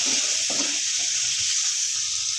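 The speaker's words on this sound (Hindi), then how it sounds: "अब इसको लो फ्लेम पे थोड़ा सा फ्राई करेंगे" Okra (bhindi) frying in a pan on low flame with salt, red chili and turmeric, a steady close bright sizzle with a few soft stirring scrapes and no voices.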